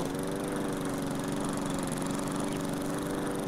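Riding lawn mower engine in the game Lumberjack's Dynasty, a steady droning hum with a buzzy, even tone that runs without a break, continuous and unchanging in loudness, with no voices.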